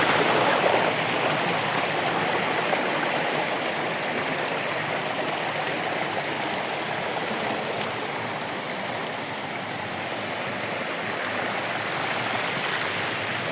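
Water flows steadily down the stream at Kabuayahan Falls, making a dense, constant broadband rush that stays even and fairly loud for the whole stretch, with no voices.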